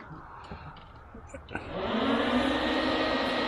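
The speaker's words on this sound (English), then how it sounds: "I hear the electric fan come on." A click, then the electric fan of a 20-year-old trimmer whirs up and settles into a steady loud hum, with quiet background sounds before it starts.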